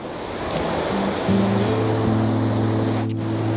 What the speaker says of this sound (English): waiting for this wave to come in and capture it flowing out